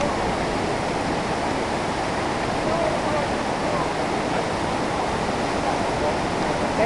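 A cold mountain river pours over the Honey Waterfalls, a loud, constant rush of whitewater that fills the whole moment without pause, close by and dominant.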